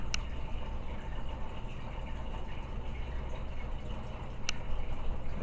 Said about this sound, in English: Still using the Marine Land 400 hang on the back filter.